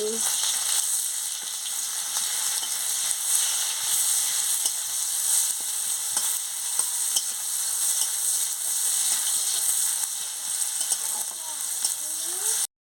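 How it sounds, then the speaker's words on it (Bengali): Chopped onion fries in hot oil for a spicy sea murla fish curry, giving a steady, bright sizzle with occasional scraping stirs, close and continuous throughout. "তেল গরম হয়ে গেছে আমি পেঁয়াজ কুচিটা দিয়ে দিচ্ছি দিয়ে ভালো করে ভেজে নিচ্ছি"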